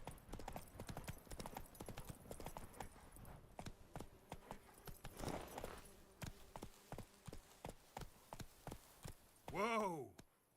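Geralt's horse Roach in the video game The Witcher 3: Wild Hunt gallops with fast, steady clip-clop hoofbeats on hard ground, fairly close, ending in a loud neigh near the end, with game voices speaking over it at times.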